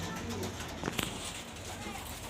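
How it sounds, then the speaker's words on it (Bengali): An Afsan grizzle pigeon coos in a low, soft burbling call close by, heard through steady background noise over about two seconds. "আফসান গ্রিজের মার্শাল্লাহ টপ কোয়ালিটি যে কবুতরটা বাচ্চা সহ আছে"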